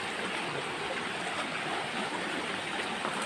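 Strongly flowing water in a stream beside a durian orchard in Chaiyaphum, a dense, even rushing hiss heard close and continuous with no voices.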